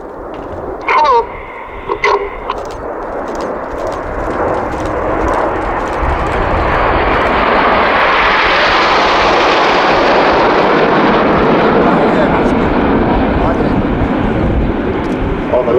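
RAF Red Arrows BAE Hawk jets fly a formation display pass at the Kauhava Airshow in 2020. A few sharp clicks come first, then a loud, roaring jet rush that builds and sustains as the formation sweeps past.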